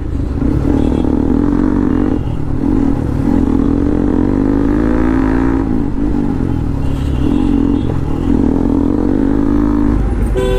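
Motorcycle engine revving hard and steadily with the rear wheel slipping, a loud droning roar with rising and falling pitch sweeps close by, plus some rattle and scrape.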